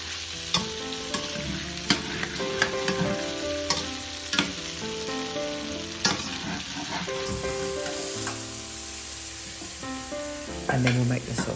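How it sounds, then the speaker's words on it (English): Tofu frying in an oiled pan, a steady close sizzle with repeated sharp clinks and scrapes of a utensil stirring against the pan throughout, no talk. "Now it's time to fry up your tofu."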